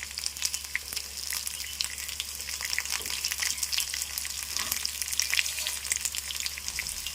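Ingredients for vakkaya (carissa berry) dal fry steadily in a pan, giving a continuous close sizzle with faint crackles and a few stirring scrapes, no voices.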